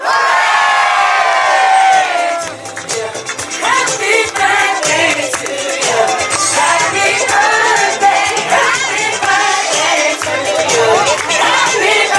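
Birthday party crowd at a 40th celebration cheering loudly in unison, a sustained roar of many voices with whoops and shouts running nearly the whole time after a brief opening burst.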